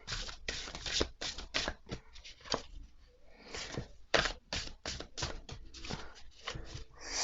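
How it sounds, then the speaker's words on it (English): Quick, crisp riffling and slapping of a heavy Witches Wisdom tarot deck comes in bursts, with brief pauses between shuffles, close up and fairly quiet. "How am I supposed to shuffle this thing? It's so heavy."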